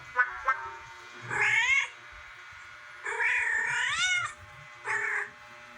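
A cat meows several times in drawn-out, wavering cries, close and clear, with short quiet gaps between calls.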